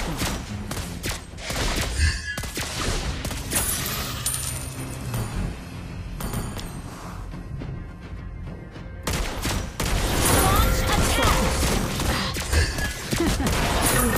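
Gunfire from the sniper hero Lesley in the mobile game Mobile Legends rings out in rapid, dense bursts of sharp shots, loud and continuous with brief lulls, alongside game effects.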